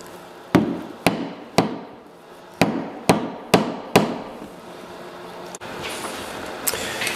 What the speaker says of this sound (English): Now I'll drive this oak dowel in there.